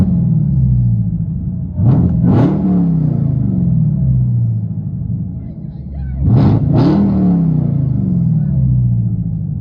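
Dodge Hellcat Redeye on true dual straight pipes with no X-pipe, heard from inside the car: a loud idle rumble broken by two sharp rev blips that rise and fall back, each rev doubled, with someone talking briefly.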